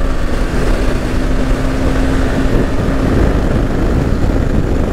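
A motorcycle hums steadily along a winding road through curves, a loud continuous engine drone with a sustained tone and rushing wind noise, no talking.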